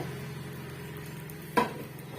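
Layered South Indian parotta sizzles steadily in a hot pan over a medium flame. A soft continuous crackle runs throughout, broken by one brief clatter partway through.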